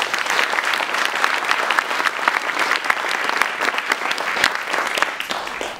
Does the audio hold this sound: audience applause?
yes